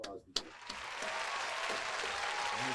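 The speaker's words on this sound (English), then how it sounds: "It's an applause." Applause rises right after a short pause to welcome a guest onto a podcast, becoming a steady, dense wash of clapping that holds through to the end.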